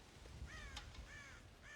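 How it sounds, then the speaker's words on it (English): Several faint, distant crows caw in the video game Red Dead Redemption, with a few short harsh calls spread over a soft, steady ambient background and no speech. "God damn crows!"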